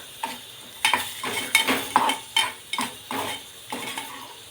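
Dry fruits such as raisins and pistachios frying in a pan while a utensil scrapes and clinks against the metal in a steady rhythm of about nine strokes over a soft sizzle.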